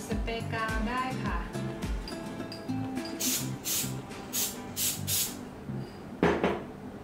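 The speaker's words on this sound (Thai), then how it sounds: "ฉีดสเปรย์กาวได้ค่ะ" Fabric spray adhesive sprayed from a can during bag sewing, several short bursts of hissing spray in quick succession, followed by a longer burst, close by and loud over quiet handling noises.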